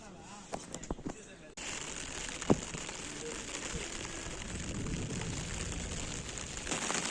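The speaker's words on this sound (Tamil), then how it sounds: "கோச்சை காமிச்சிட்டு லோக்கோ வரத்துக்குள்ளே செம்ம மழை ஸ்டார்ட் ஆயிடுச்சிங்க" Heavy rain pours at a railway station near Ramanathapuram, a dense steady hiss that sets in abruptly after a few quieter moments with light taps, and a voice speaks over it.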